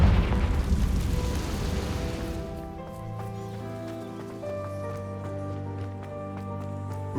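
Confringo blasting spell in Hogwarts Legacy bursting with a noisy explosive rush at the start, then fading into sustained musical tones and light scattered taps.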